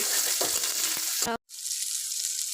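Onions and chillies sizzle loudly in hot oil as they fry toward brown, with a few stirring scrapes, a sudden brief drop to silence, then the steady hiss resumes.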